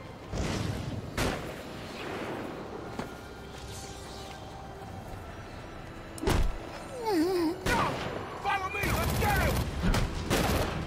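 Sniper gunfire in Batman: Arkham Origins, several sharp loud shots spaced irregularly over game ambience, with a rapid cluster of cracks and whirring effects near the end.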